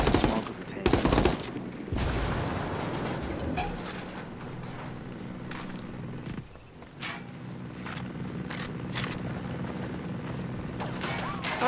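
Gunfire in Ghost Recon Wildlands: bursts of shots crackle near the start, then scattered sharp reports ring out over a steady background of game noise, with faint talk in places.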